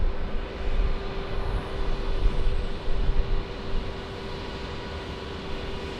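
A fixed-wing airliner on approach to land on runway 02 at Lisbon Airport, a broad engine roar swelling in the middle and easing off, with a steady tonal hum underneath and no voices.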